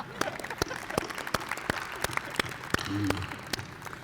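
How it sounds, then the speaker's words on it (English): A breakfast audience of seniors claps for Provost Todd, a sparse, fairly quiet round of individual sharp claps at an uneven pace, with a voice briefly heard underneath. "let's give Provost Todd a round of applause"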